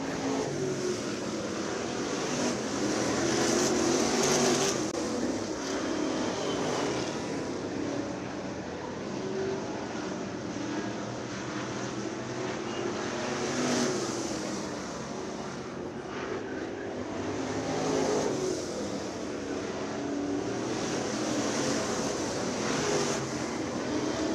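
Race cars circle a speedway track in practice, engines droning from a distance and swelling and fading in waves as they pass, with no talking.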